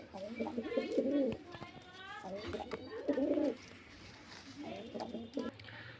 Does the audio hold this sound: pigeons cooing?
yes